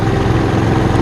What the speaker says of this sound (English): Dad's got the pump on the back of the tractor there running to get that system warmed up, ready to go.